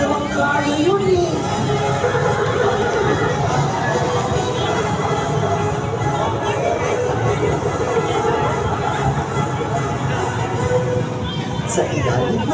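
A circus horse neighs loudly early on amid a busy crowd, its whinny standing out over continuous chatter and babble of an audience at a show.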